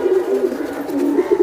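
A Gorra-type female pigeon coos in a loft of flying pigeons, giving a steady run of close, loud, throaty pulsing coos.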